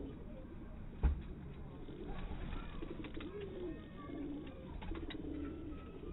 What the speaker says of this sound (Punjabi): ਉਸਤਾਦ ਜੀ ਕਬੂਤਰ ਤਵੱਜੋ ਮੰਗਣ ਡਿਆ ਤੁਹਾਡੀ